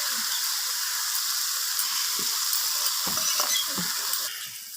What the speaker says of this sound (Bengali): তো এরপর এটাকে অনবরত নাড়াচাড়া করে সর্ষেটাকে সর্ষে সর্ষেটাকে একটু রান্না করে নিতে হবে